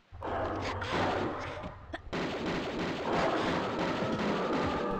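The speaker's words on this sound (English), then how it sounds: "Let's just use the automatic pistols." Automatic pistols firing in the Tomb Raider II Ice Palace level, a dense, continuous rattle of rapid shots filling the whole stretch, with a brief dip near the middle before the barrage resumes.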